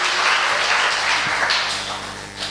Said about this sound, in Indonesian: Beri tepuk tangan untuk diri saudara sendiri.